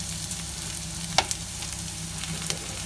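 Onion and garlic frying in hot olive oil give a soft, steady sizzle close by, with a brief clatter of a utensil stirring midway and no talking.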